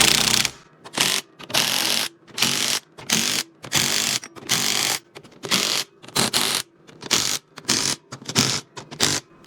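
Power ratchet on its low setting tightening bolts during a John Deere 4020 tractor split and PTO clutch repair, running in about a dozen short buzzing bursts separated by brief pauses, close and loud with no talking.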